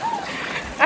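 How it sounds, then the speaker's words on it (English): A hiker's foot splashes into stream water on a trail to a waterfall, one short close splash near the end after steady outdoor water noise. "I stepped in the water twice."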